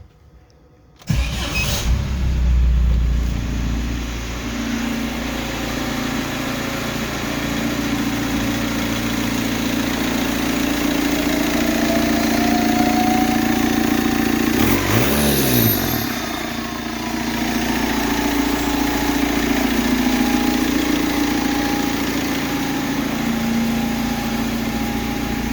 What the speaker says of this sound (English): So this thing starts immediately, and I did just drive it, so it's not really going to be a cold start.